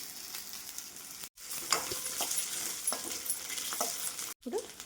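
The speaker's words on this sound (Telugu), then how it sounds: "సన్నం కట్ చేసుకున్న చామగడ్డ ముక్కలు ఇందులో వేసుకొని ఫ్రై చేసుకున్నాం" Thin-sliced taro root pieces sizzle in a pan with lightly fried onion and a pinch of turmeric, a steady bright hiss broken by scraping stirs and two brief cuts to silence.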